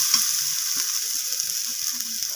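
Garlic and ginger paste sauté in a hot pan with oil, giving a steady, close sizzle and frying hiss, while a spoon stirs and scrapes softly underneath.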